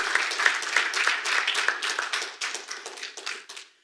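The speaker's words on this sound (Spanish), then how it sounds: "Vamos, dale un aplauso fuerte" A church congregation claps in a fast, dense burst that gradually thins and fades over a few seconds, heard at moderate distance without voices.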